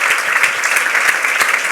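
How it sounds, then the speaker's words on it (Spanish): Loud, close audience applause follows a public talk with former Spanish prime minister Felipe González, many hands clapping in a dense, sustained wash with a few sharper individual claps standing out. "un aplauso"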